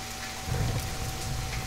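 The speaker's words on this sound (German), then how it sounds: "Weil es regnet." Rain in the video game The Forest, a steady hiss of rainfall with a low rumble underneath, brief and alone.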